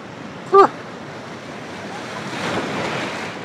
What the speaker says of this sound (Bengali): ঢেউগুলো খালি আসছে দেখো।